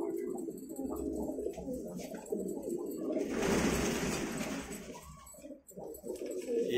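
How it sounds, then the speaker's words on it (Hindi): Kashmira racing pigeons coo inside a breeding loft, soft repeated throaty calls mingling with shuffling and rustling, plus a brief broadband burst of noise partway through. "लेकिन रोशन बबरे हैं नहीं, ये कश्मीरे का कबूतर है।"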